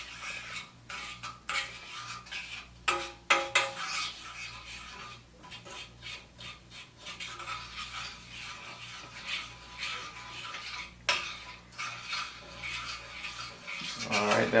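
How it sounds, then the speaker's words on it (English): A spoon scrapes and clinks around a pan while stirring soy sauce and brown sugar into a sushi glaze, a steady close scraping with occasional sharper taps and no voices. "Let me just mix this around. Dissolve the brown sugar."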